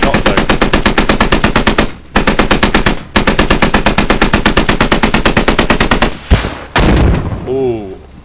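Rapid automatic gunfire in a video game, sustained bursts of loud, evenly spaced shots with two brief pauses, ending in a final burst and a short electronic tone.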